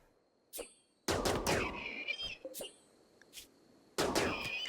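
Colonists shooting in the colony game RimWorld, separate bursts of gunfire with a short crack, then a long volley, scattered single shots and another burst at the end, separated by near silence.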